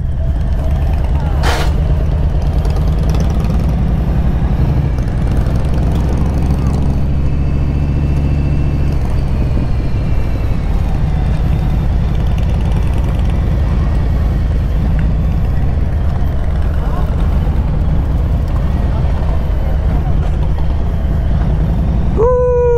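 Steady, loud low rumble of a Harley-Davidson police motorcycle engine held in second gear, continuous and close throughout, with a brief high squeal near the end.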